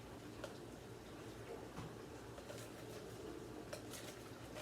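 Spoon stirring chocolate cake batter in a bowl, faint steady scraping and light clinks against the bowl, soft and continuous.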